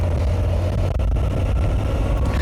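A Moto Guzzi V85TT motorcycle ridden off-road on a dirt track in the hills of Málaga, Spain, on road tyres, its engine a steady, loud, close rumble with continuous low droning and wind.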